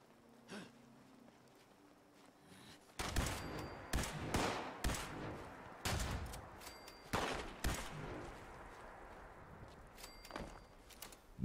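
Turret gunfire in the video game Fallout 76, a series of loud sharp shots in irregular bursts over a faint background, with no talking.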